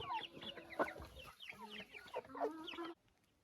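Hens clucking and murmuring close by, several birds overlapping in soft, busy chatter that stops abruptly near the end.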